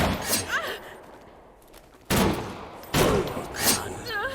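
Gunfire in a horror video game, heard as a few loud, sharp bursts spread across the clip, with quieter game ambience between them.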